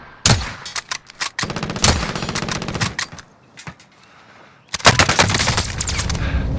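Gunfire in Call of Duty: Modern Warfare, with loud, close bursts of rapid automatic shots, a short lull, then another heavy burst of fire.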